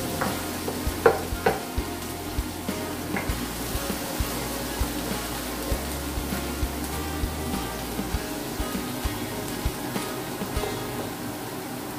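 Chopped garlic sizzles steadily in hot oil in a frying pan, with a spatula stirring and scraping through it in scattered soft clicks, close and continuous for the whole stretch with no talking, during the making of apretada.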